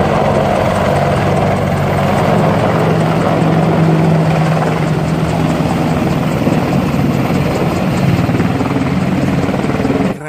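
Steady, loud rotor-like whirring drone with a low hum, continuous for about ten seconds, a toy attack helicopter's motorized sound effect running alone.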